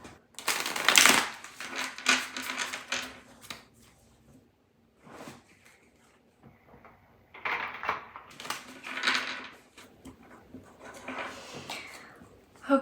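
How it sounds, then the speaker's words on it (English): A tarot card deck riffled and shuffled by hand in close, papery bursts, two main rounds of fluttering card noise separated by a quieter pause of light handling. "I already gave this deck a shuffle, but I like to be thorough"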